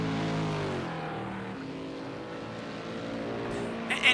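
Race car engines in Project Cars 2 during an Xfinity Series race at the Texas Roval hold a steady, continuous drone with shifting harmonic pitch, several cars droning together, and a brief louder burst near the end.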